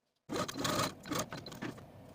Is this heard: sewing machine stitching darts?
yes